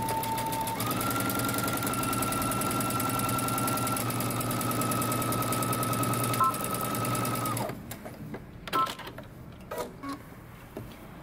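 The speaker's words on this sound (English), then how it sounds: "Now we're gonna go ahead and take this to the sewing machine." A sewing machine stitches the side seam of a jumper in one steady, fast run that lasts most of the time, then stops, leaving scattered handling clicks and small knocks.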